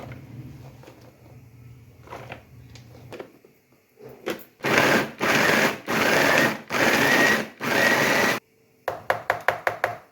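A manual vegetable chopper chops green chillies in a home kitchen: quiet handling knocks, then five loud, even whirring bursts in a steady rhythm, ending in a quick run of sharp clicks, with no talking.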